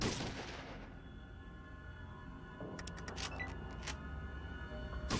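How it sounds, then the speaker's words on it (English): An enemy reloads a shotgun in the Fallout 1 video game: a quick series of faint metallic clicks and clacks over a steady, noisy ambient hum. "Oh, he reloaded his shotgun."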